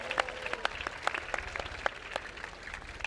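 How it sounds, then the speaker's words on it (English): A crowd at a sports tournament speech applauds the coaches, teachers and volunteers, with steady, moderately loud clapping that runs throughout with no voices. "I think you should give them a round of applause because of all the time they put in."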